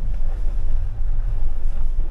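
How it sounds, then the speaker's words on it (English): Strong wind buffets the microphone outdoors on a farm, a loud continuous low rumble with gusty swells and no voices. "They've been fighting wind."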